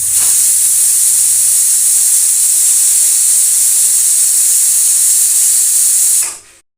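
A pressure cooker of capsicum palya whistles, letting out a loud, continuous, close-up hiss of steam for about six seconds before cutting off abruptly.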